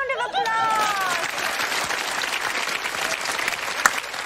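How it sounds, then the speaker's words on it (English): A studio audience on a Christmas chat show applauds steadily for the whole stretch, dense and lively, with a brief cheer or whoop near the start and a sharp single clap standing out toward the end. "Give Bernard a round of applause."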